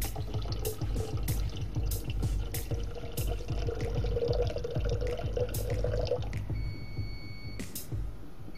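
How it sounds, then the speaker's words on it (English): Water poured slowly into a buffer solution in a lab vessel, a thin continuous trickle with a rising gurgle and scattered drips and clinks. "we're just pouring water slowly till it reaches 500"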